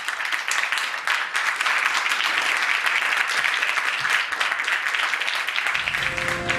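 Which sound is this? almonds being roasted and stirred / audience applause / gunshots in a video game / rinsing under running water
audience applause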